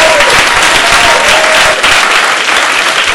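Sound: audience applause

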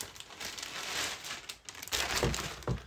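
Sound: crinkling plastic bag around leather handbag

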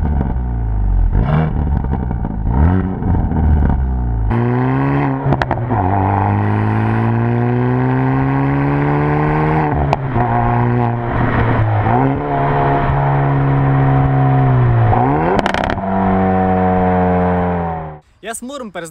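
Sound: Hyundai i30N twin exhaust revving

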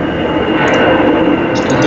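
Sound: airplane flying overhead near an airport

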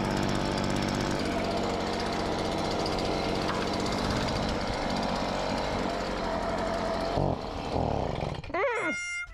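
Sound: leaf blower blowing off a camper trailer

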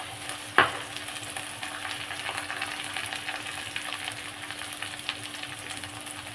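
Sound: raw banana pieces frying in a pan

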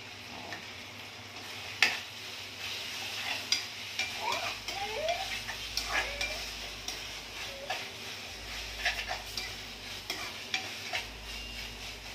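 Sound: roasting paneer roll stuffing with spices in a pan

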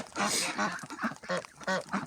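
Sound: ducks quacking

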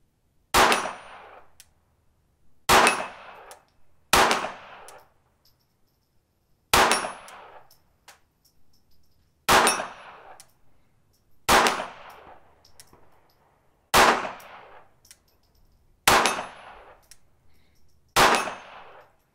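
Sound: Ruger Mark II pistol shooting steel targets

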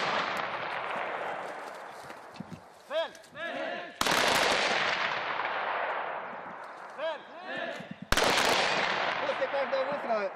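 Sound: gunshots during a shooting exercise

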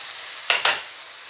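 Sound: sautéing eggplant filling with tomato paste and spices

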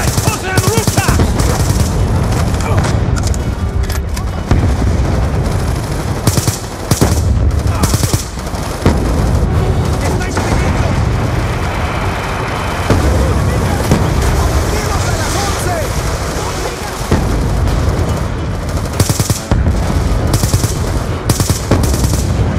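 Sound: machine gun fire in video game Call of Duty: Black Ops II

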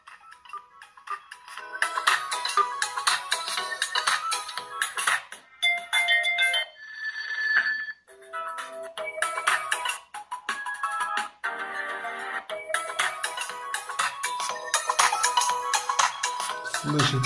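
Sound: ringtone played on Lenovo Lemon K3 smartphone

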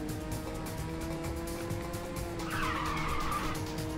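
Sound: race car engine and tire skidding in the video game Ridge Racer 6

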